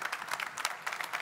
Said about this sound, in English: That's the second round of your applause, Mo.